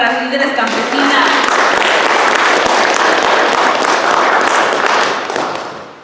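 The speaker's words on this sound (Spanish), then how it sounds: "Otro aplauso, por favor, para las líderes campesinas." A crowd applauds loudly and steadily for women farmworker leaders at a community gathering in the Salinas Valley area of California. The clapping is dense and sustained for about six seconds, with voices mixed in, before it starts to taper.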